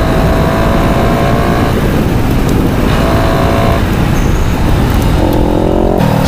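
Group ride of four sport bikes including a Kawasaki Ninja 400 and KTM Duke 390, engines droning loudly and continuously with passing road and wind noise, shifts in pitch as they accelerate.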